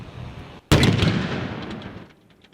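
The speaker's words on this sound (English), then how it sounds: "They look beautiful lighting up the night sky, but fireworks can be deadly" Fireworks going off at night: one sharp, loud close blast that rolls into a crackling, decaying rumble lasting about a second and a half.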